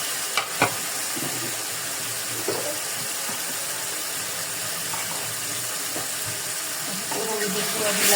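Onion paste sizzling and frying in a pan while Malabar spinach seeds are cooked, a continuous hissing crackle with a few soft clinks early on, swelling slightly louder at the end.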